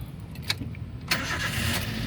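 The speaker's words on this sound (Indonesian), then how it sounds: "kita nyalakan mobil, coba." A 2014 Toyota Avanza 1.3 G with a manual gearbox is started: a short crank bursts in about halfway through, then the engine catches and settles into a steady, close idle.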